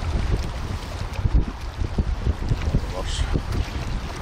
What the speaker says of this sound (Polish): Wiatr wieje, to rozwiewa.